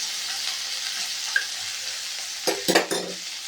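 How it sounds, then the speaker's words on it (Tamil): Onion, tomato, garlic and curry leaves sauté in a pan for mutton kulambu. A soft, steady sizzle runs throughout, with a brief cluster of spatula scrapes near the end and no voices. "நல்லா இதையும் சேர்த்து நல்லா வதக்கி கொடுக்கலாங்க."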